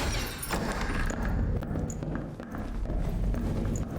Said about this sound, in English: I hear a footstep ahead